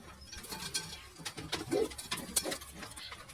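A Rampuri pigeon cooing close by, a brief low throaty coo rising out of a quiet room with light clinks and rustling around it.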